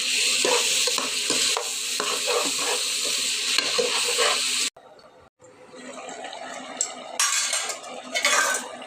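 Bay leaves hit hot oil for a moong dal and bottle gourd dish, giving a loud, close, crackling sizzle with stirring scrapes. After an abrupt cut, quieter frying and utensil clatter follow.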